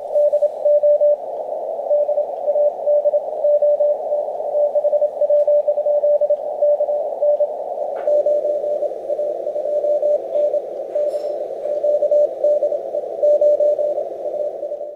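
A steady amateur radio tone received on Icom IC-7851 and IC-7610 transceivers, droning continuously for the whole stretch with a slight shift in tone partway through, loud and alone with no talking.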